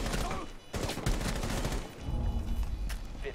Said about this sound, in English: I just got sniped through the wall